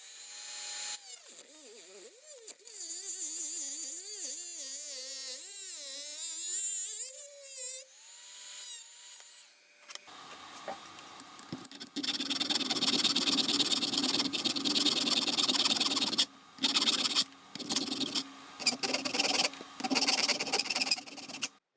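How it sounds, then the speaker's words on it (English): A Dremel rotary tool cuts through the chassis rails of a 1/10 scale RC crawler, first a whining motor that wavers in pitch, then a loud, harsh cutting grind broken by short pauses, close up. "I used the Dremel to cut and used the file to clean it off."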